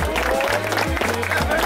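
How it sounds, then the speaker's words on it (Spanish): Audience at a League of Legends meetup in Temuco applauding the girls over loud background music, brief clapping and crowd noise lasting under two seconds. "¡Aplausos para las chiquillas!"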